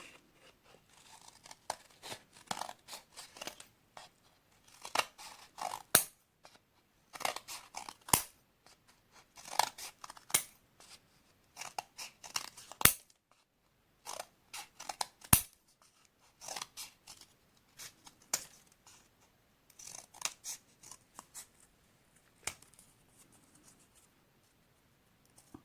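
Scissors snip through strips cut from cardboard toilet paper rolls for a Christmas tree decoration, giving a long run of crisp, close cuts in irregular bursts with short pauses between.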